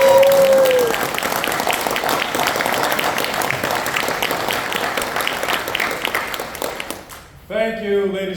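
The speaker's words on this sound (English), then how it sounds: "And another round of applause for our winners." An audience at the Dwayne McDuffie Award for Diversity in Comics ceremony at San Diego Comic-Con 2025 gives award winners a sustained round of loud applause, which dies away before someone speaks into a microphone.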